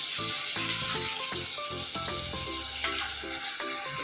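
A ground paste of tomato, onion and fennel sizzles steadily in hot oil for a village country-chicken gravy, a continuous close frying hiss running beneath louder background music.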